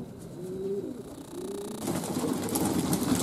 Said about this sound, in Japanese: 鳥が降りてきましたので呼び込んで今日の社外を終了させてます